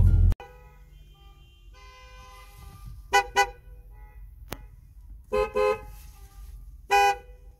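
Several car horns honk in short bursts, some doubled, spread over a low background rumble of traffic at night.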